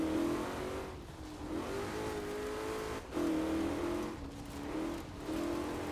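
A rally car in Forza Horizon 4 drives a rally stage, its engine droning and revving steadily, with brief dips between gear changes, loud and close with no talking.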